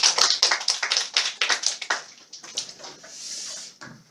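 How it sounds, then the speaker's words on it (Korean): Classroom applause from a small group of students: uneven, separate hand claps, fairly close, that thin out and fade over a few seconds. "박수 한번 주세요."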